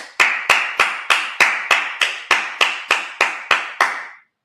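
At a Sabbath service, a dozen sharp, evenly spaced claps ring out in a steady rhythm, crisp and close with a short echo after each, then stop.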